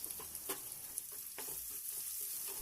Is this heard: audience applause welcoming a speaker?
no